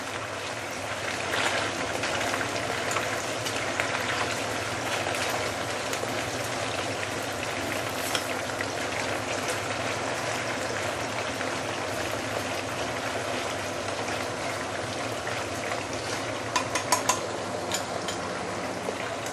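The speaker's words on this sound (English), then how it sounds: "So you'll probably deep fry this for a couple of minutes only." Pork ribs deep frying in hot oil for Zhen Jiang sweet and sour ribs, a steady dense bubbling sizzle that holds evenly throughout with a few sharper pops near the end.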